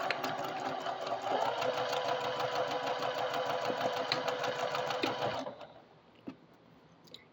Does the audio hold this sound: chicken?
no